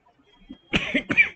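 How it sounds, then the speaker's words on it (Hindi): A short, close cough in two quick bursts, sharp and throaty, with nothing else around it. "बोलती हूँ तो खांसी आ जाती है"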